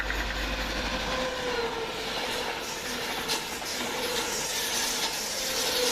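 A passenger train from London Euston to Edinburgh Waverley rolls past Smethwick Galton Bridge, a steady loud rumble with hiss and faint wheel clatter that holds throughout without a break.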